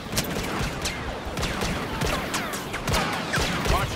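Rapid, overlapping bursts of gunfire crackle throughout a Star Wars Battlefront battle, dense and fairly loud, with no clear pause and no talking.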